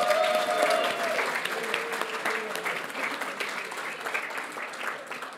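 A crowd at the Victorian Aboriginal Honour Roll ceremony applauds an inductee and his family, a sustained patter of many hands clapping that slowly tapers. A faint tone and some murmuring sit underneath.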